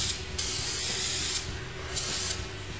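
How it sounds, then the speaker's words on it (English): Cleaner sprayed onto an ATV or go-kart air filter in three close, steady hissing bursts of roughly a second each, loud and alone with no talk. "Cover the whole filter with the cleaner."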